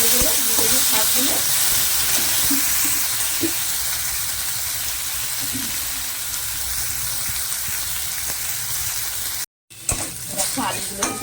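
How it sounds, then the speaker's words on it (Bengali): Potato pieces sizzle steadily in hot oil in a pan, a loud continuous frying hiss with occasional stirring, briefly cutting out near the end. "দেখো আলুগুলো কিন্তু ভাজা হয়ে যাচ্ছে"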